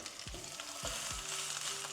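Lamb searing in a hot pan, a soft steady sizzle under a few low thumps as pieces are set down, quiet and without speech.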